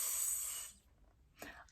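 A voice imitates a lawn sprinkler's steady whispering spray with a soft, breathy hiss lasting about three-quarters of a second, then falling quiet before a brief second breathy burst near the end.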